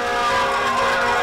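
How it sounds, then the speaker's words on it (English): Sirens wail continuously and loudly through downtown Helena streets as fire trucks parade a championship hockey team, the steady tones layered with harmonics and busy street noise. "and sirens filled the air of downtown Helena"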